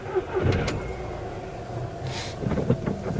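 Car door thumps and rustling movement lead into a short engine crank and start, moderately close, with no one speaking.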